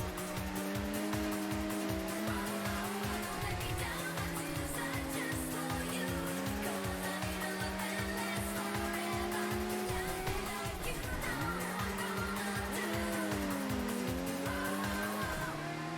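Race cars, including a GTR, driving an uphill course, heard as a steady loud engine drone with a pulsing rhythm and shifting pitch, with music playing alongside.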